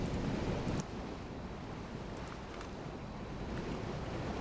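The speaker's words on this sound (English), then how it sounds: "I'm actually gonna go a little bit deeper, just so the water sound effects don't happen as much" Ocean water sound effects from the submarine game Silent Hunter 4 give a steady broadband rush of waves and surf, with a louder surge at the start and a few faint splashy ticks later on.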